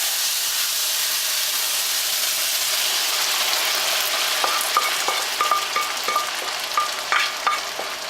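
Noodles are stirred and fried in a pan: a loud, continuous sizzle and steamy hiss, joined in the second half by repeated scraping and tapping of a utensil against the pan. No one speaks.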